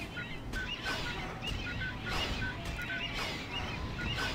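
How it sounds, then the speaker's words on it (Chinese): A bird creature in the mobile game Lineage M chirps in short, repeated high calls at a steady rhythm over a constant game backdrop, with no talking. "突然觉得好像有点在欺负小鸟啊，一直啾啾啾那种，嗷嗷待哺的小鸟那种感觉哦"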